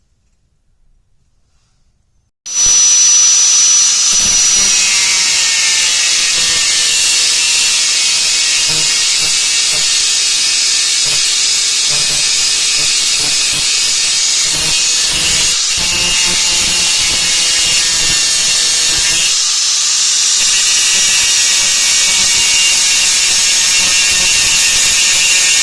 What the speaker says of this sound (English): We're gonna have to come in here and grind the rest of this down right here